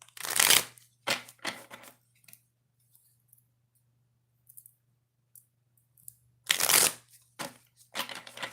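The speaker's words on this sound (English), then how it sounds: "oracle reading, and that is for people who are unemployed. And through some 3 shuffles, okay?" Oracle cards are shuffled by hand in quick bursts, a few crisp riffling swishes and light clicks close to the listener, separated by quiet pauses.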